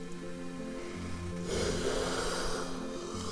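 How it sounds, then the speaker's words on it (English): A man's drawn-out yawn, a breathy surge lasting about a second, heard close over steady background music. "I gotta yawn so much, bro."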